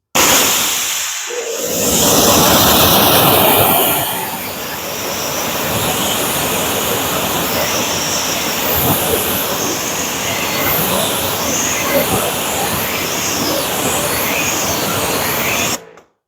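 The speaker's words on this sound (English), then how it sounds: "You just rinse it off, and it works." Water spray rinsing tire cleaner off a car wheel, a steady broadband hiss running continuously close by, with a louder burst in the first seconds before settling into an even rushing stream.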